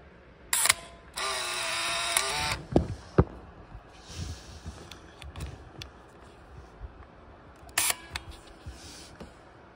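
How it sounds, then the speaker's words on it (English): A Canon Sure Shot 35mm compact camera fires its shutter with sharp mechanical clicks and a couple of short whirring motor bursts, close and clear, with quiet gaps between them. "I'll shut the flash off so you can see the shutter is firing."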